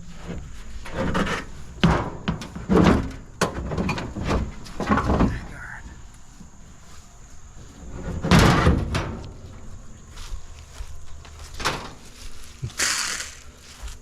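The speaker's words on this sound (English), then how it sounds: "Oh, shut the door." A pickup truck door slams shut during the loading of scrap metal, among a series of sharp metallic bangs and clanks, with people talking at times.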